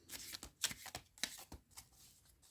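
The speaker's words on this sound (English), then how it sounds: "then you start to shuffle with a question in mind" A deck of tarot cards being shuffled by hand, a series of soft, quick riffling and sliding bursts at close range, quiet and irregular in rhythm.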